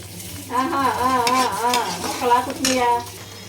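Masala gravy of blended onion and tomato frying and being stirred in a pan, a continuous sizzling hiss with a wavering tonal sound riding over it through the middle of the clip.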